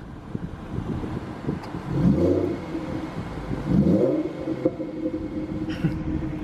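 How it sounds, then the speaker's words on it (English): Engine of a Ford Mustang revving in two swelling bursts over a steady idle rumble, close by, with background noise between the rises. "rev it a little bit."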